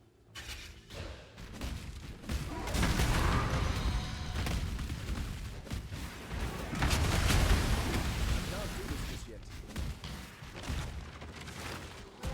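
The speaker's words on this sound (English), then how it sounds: "Didn't know they had a corpse explosion item." Corpse explosions burst in the Path of Exile video game, a run of heavy booming blasts that swell and fade over several seconds, with game voices and talk underneath.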